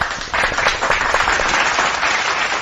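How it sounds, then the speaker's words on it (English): A burst of applause starts almost immediately and continues as lively, dense clapping from a small crowd, close and steady. "let's give them a big round of applause."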